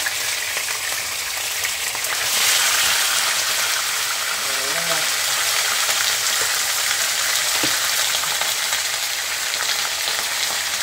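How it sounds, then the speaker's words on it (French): Fish, marinated capitaine, sizzles loudly in hot oil, a steady close hiss and crackle that swells slightly after a couple of seconds and runs on continuously, with voices faintly beneath. "Faut faire très attention quand vous mettez les poissons dans l'huile."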